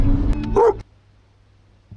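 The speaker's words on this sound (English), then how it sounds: "Who loves to bark?" A pet dog gives a single loud, close bark, a short burst followed by near silence.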